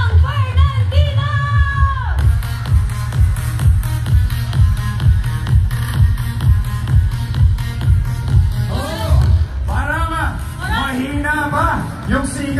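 A crowd of young people at the Kayabi Fest 2024 concert roars, shouts and cheers loudly and continuously. A voice talks or chants over a pulsing bass beat.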